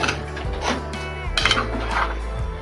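A spoon clinks and scrapes against a metal pot while chicken and suran (elephant foot yam) curry is stirred on slow heat, a few close, distinct knocks and scrapes over a low steady hum.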